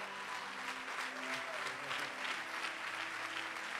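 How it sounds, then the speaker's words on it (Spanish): Audience applause fills a church service, a steady dense wash of many hands clapping at moderate distance, continuous and fairly faint throughout. "Aplauda eso también."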